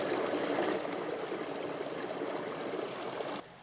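Water flows steadily down a small creek above a big waterfall, a continuous close rushing and trickling wash that drops slightly in level just before the end.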